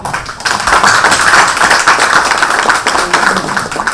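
An audience at a government budget policy council meeting of provincial governors and mayors claps together in a dense, sustained burst of applause, loud and steady throughout.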